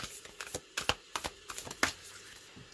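Tarot cards being shuffled by hand in quick, irregular riffles and slaps, close and crisp, with a dozen or so sharp bursts over a few seconds and no talking.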